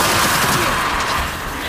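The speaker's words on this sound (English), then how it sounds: "Mortar coming!" Mortar and gunfire in the video game Gears 5, a loud dense barrage of blasts and rattling shots that fill the whole stretch, with a voice shouting over the battle.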